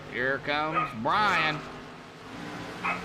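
Small four-legged dogs yap in the background during a racing broadcast, with a few short, faint barks beneath a commentator's close, continuous talking.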